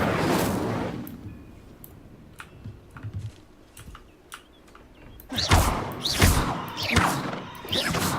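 The Incendio fire spell is cast in Hogwarts Legacy: scattered clicks and soft thuds give way to loud bursts of whooshing flame and impacts, several in quick succession near the end.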